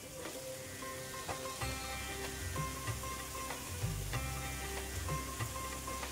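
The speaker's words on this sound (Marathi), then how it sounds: "आता किसून घेतलेलं पनीर टाकून घेणार आहे इथं" Grated paneer hits a hot pan for paneer bhurji, setting off a steady close sizzle with frying crackle and a few scraping stirs throughout, no voices.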